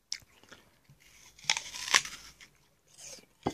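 A crunchy Discovery apple being bitten, with a few sharp crisp crunches close by and quiet chewing between them.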